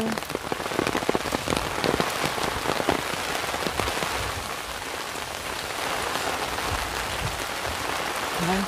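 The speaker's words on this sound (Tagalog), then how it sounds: "Talagang laging umuulan." Steady rain pours onto a surface nearby, a dense continuous patter with occasional heavier drops, loud and unbroken throughout.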